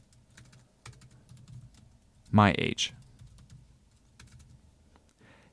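Code typed on a computer keyboard comes as light scattered key taps at close range, then a brief louder spoken word cuts in, with the tapping resuming softly afterward.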